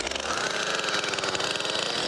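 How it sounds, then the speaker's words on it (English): A chainsaw rips lengthwise through a log to split it, its engine roaring loud and steady at high revs throughout, with a gritty cutting buzz and no voices. "So we got to split one with a chainsaw."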